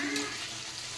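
Brinjal fries in a pan, a steady close hiss of sizzling oil over about one second.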